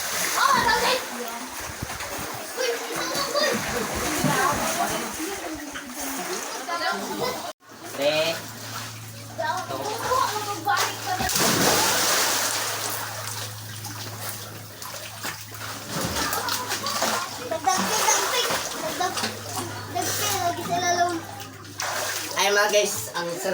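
Several people splash and bathe in a cold spring pool, water sloshing and splattering steadily under frequent talk and voices nearby.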